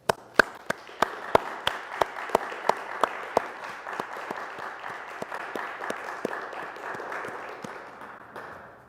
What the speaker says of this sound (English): Please join me in a warm round of applause for all our graduates